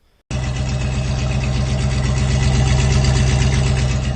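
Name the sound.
truck engine with exhaust system running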